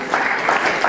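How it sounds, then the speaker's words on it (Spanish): Guests clapping at a quinceañera celebration, a full continuous burst of applause with a few brighter swells, fairly loud and close, no talk over it. "Así que un fuerte aplauso"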